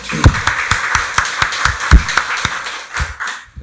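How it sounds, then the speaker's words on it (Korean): A church congregation applauds during a Sunday worship service, a run of brisk hand claps with a few louder close claps standing out, fading toward the end. "박수로 하나님께 영광 돌리겠습니다"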